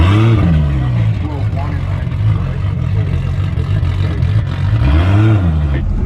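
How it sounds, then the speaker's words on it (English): A drag car with a new engine, making its debut pass, rumbles with deep, rising and falling revs and loud idling bursts at close range, while voices talk over it throughout. "But for Nathan, this will be the debut pass of the new engine"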